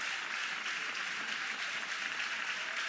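A college softball crowd at an NCAA tournament game cheering and clapping for a batter, a steady wash of distant applause with no voice on top.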